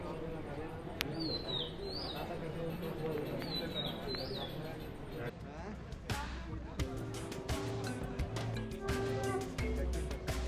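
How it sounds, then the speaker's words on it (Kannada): Birds chirp and pigeons coo around a temple courtyard, the calls light and intermittent over a steady murmur of a waiting crowd, with people talking and scattered knocks and clatter later on. "ಈ ಪಕ್ಷಿಗಳು ಮಾಡ್ತಾರೋ ಸೌಂಡ್ ನೋಡಿ ಏನು ಸಖತ್ತಾಗಿದೆ ಅಂತ."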